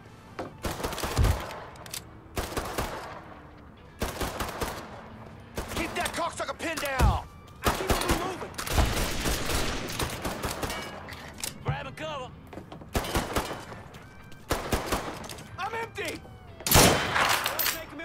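Gunfire in the video game Mafia 3 comes as repeated sharp bursts and single shots. Someone talks excitedly between and over the shots.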